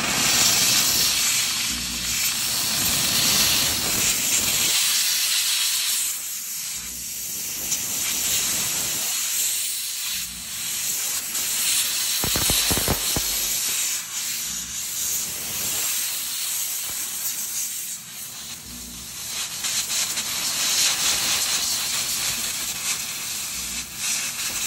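A DVC 172 dry vapor steam cleaner blasting carbon off an M240 op rod bolt track assembly after 2,100 rounds, loud continuous high-pressure hissing in long bursts separated by brief pauses.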